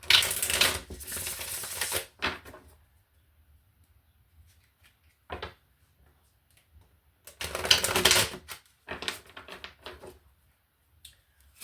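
Tarot cards are shuffled in two quick riffling bursts, each a crisp rattling flurry of about two seconds, separated by near silence broken only by a few soft taps and card handling sounds.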